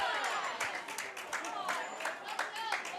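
Spectators at a high school baseball game between Kilgore and Spring Hill cheer and clap, with scattered shouts and applause rising and falling over a few seconds, moderately distant.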